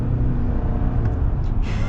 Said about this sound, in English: Can hear quite a bit of turbo blow off